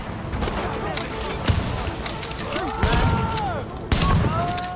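A turret in The Division fires bursts of gunshots amid a noisy battle, with whistling projectiles and booms, while someone talks over the fighting.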